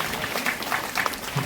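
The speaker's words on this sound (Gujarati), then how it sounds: "તાળીઓના ગગડાટથી આપણે એમને પ્રોત્સાહિત કરતા રહીશું." An audience at a village school admission ceremony applauds: a brief, steady burst of many hands clapping at close range.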